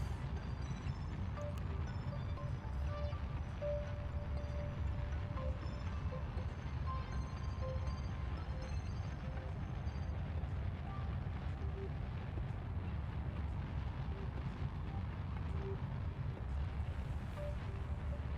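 Steady low rumble of a rocket engine burn in Kerbal Space Program, continuous and unbroken, with a faint tonal hum on top and no clear change in level throughout.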